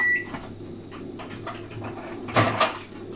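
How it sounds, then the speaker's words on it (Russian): A microwave oven gives one short, clear electronic beep right at the start, followed by soft household rustling and a couple of light clunks nearby. "Открыть микроволновку, чтобы она не пищала."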